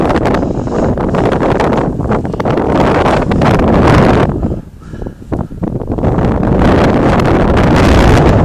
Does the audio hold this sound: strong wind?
yes